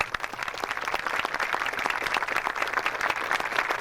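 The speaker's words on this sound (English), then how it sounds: "Let's give them all a round of applause." An audience applauds at the 1996 dedication ceremony of a tribal flag plaza, a sustained crackle of many hands clapping, steady and fairly close, with no speech over it.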